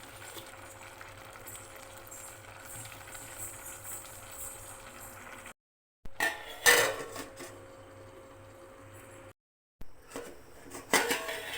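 A metal lid set onto a pot of bagara rice, with sharp clanks of metal on metal breaking into a low steady hum, then brief gaps of silence and more clattering.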